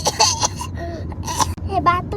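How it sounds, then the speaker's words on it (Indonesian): A voice puts on a fake cough, making a few short throaty bursts mixed with whimpery vocal sounds, close and loud. "Apa aku pura-pura batuk ya?"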